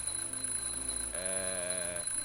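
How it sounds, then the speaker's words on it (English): In The Journey Down: Chapter Two, a smoke detector alarm sounds as one sustained electronic tone of about a second, rising out of a quiet background hum and then cutting off. "I'm, just testing the smoke detector."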